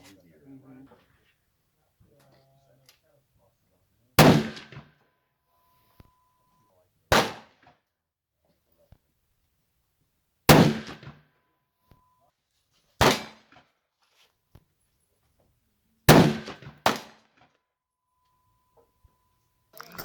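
A .300 PRC rifle fired on a shooting range, five loud sharp cracks spaced a few seconds apart, each followed by a short decaying echo, with quiet voices heard between shots.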